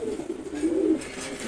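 A female silver gola pigeon coos up close in a low rolling murmur that swells midway and then eases off, with no voices over it.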